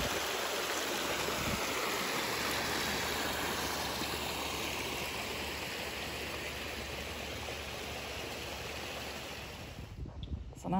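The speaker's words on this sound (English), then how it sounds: "And so there's the spillway." Water pours down a park spillway into the woods at Aiken State Park, a soft, steady rushing wash heard from a short distance, unbroken until a brief rustle at the end.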